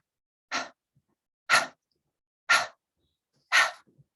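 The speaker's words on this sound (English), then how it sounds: "which is simply a shorter breath through the mouth," Four short, sharp breath bursts pushed out through the mouth, evenly spaced about a second apart, close and clear with silence between them, as in a breathing exercise that snaps the belly in on each exhale.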